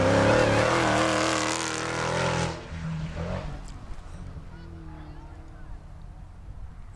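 An autocross sports car at a nighttime event, its engine revving hard and loud with a rising howl, then dropping away after a couple of seconds into a quieter rumble as a voice talks over the fading engine.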